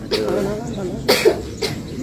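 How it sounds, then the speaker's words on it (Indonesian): Stifled coughs from someone holding back laughter, a few short bursts spaced through the moment, close and fairly loud with faint voice-like murmur between. "Jadi nggak ketawa tapi ditahan jadi batuk."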